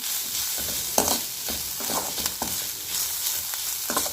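Grated coconut sautéed and stirred in ghee for aval laddu, with a close, steady sizzle broken by repeated scraping strokes of a spoon against the pan.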